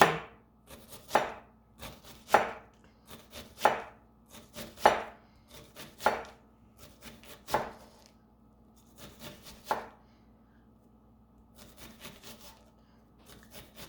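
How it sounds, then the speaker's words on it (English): A knife chopping an onion on a cutting board in a kitchen, a run of sharp, close knocks in bursts with short pauses between. The strokes grow sparse and quieter toward the end, and no one speaks. "everyone cuts onion their own way. I like to cut it like this."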